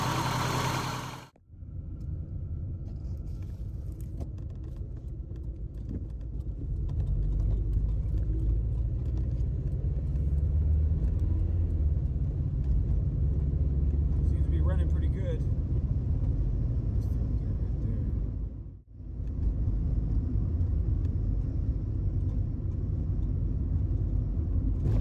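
A 1991 Volkswagen Jetta with an 010 automatic transmission runs with a steady low engine rumble, rising in load partway through as it shifts roughly, with a brief dip near the end.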